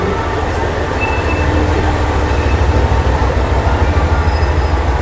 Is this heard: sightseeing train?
yes